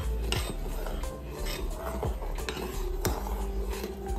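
A spoon stirs ghee-roasted ground rice in a metal pot for kheer, giving repeated scraping strokes and sharp clinks against the pot at a steady, unhurried pace close by.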